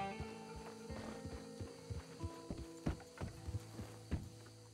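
Hooves of a big horse in Red Dead Redemption 2 clip-clop in an uneven walking rhythm near a narrow bridge, steady and moderately close, with faint mechanical clicks and game ambience underneath.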